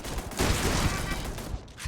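Rapid automatic gunfire from small machine gun turrets in the video game Starfield, a dense continuous burst of shots lasting under two seconds, loud and close, with no talking over it.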